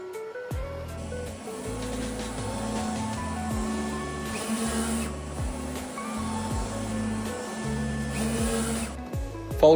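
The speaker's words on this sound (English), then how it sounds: "There were a couple of missing nozzles in the black, so I ran a standard clean before printing." A Roland TrueVIS LG-640 UV printer/cutter runs a print, its carriage shuttling back and forth with repeated low mechanical sweeps and whirring, steady and fairly close without any talk.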